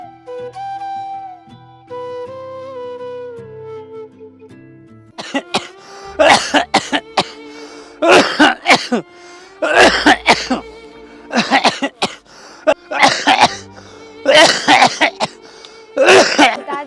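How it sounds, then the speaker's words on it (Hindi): Repeated harsh coughing fits from an elderly father with a fever, loud bursts coming in a steady series after a quiet stretch of soft melodic music. "पिताजी, आपको तो बहुत खांसी हो रही है"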